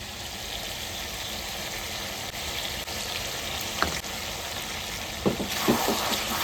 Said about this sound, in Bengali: এবার মশলাটা দেওয়া যায়, রান্না লেগে গেছে যখন পেঁয়াজটা